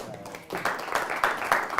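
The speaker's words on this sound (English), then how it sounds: "You love the applause?" A church congregation applauds on a Sunday, starting faintly and then swelling into rhythmic clapping after a quiet half second.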